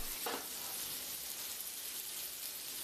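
Slab bacon fries in olive oil in a pan over medium heat, giving a steady, faint sizzle and hiss that continues evenly throughout, with a brief louder crackle near the start and no talking.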